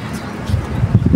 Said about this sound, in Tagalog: yung mga kalapati na yan, yung breeders natin at si Mia.